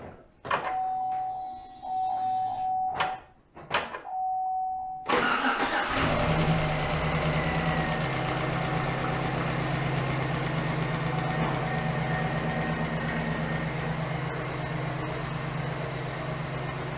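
A V8 engine, just fitted with replacement AFM lifters, cranks briefly after a few short electronic chimes and catches, then settles into a steady, loud, close idle with a low even rumble that holds to the end.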